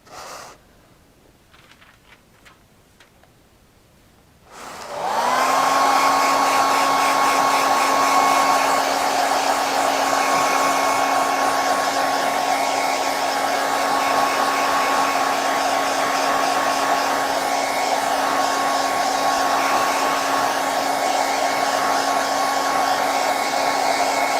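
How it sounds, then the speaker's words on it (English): After a few seconds of quiet, a hair dryer switches on to dry paint, blowing with a loud, steady whine and rushing air that continues uninterrupted. "I'm going to go ahead and take my blow dryer to dry this in place."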